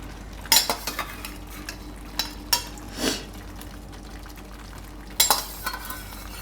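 Peas are tipped into cauliflower frying in a pan and stirred, giving a low sizzle with a few sharp metal scrapes and clinks of the spoon at irregular intervals.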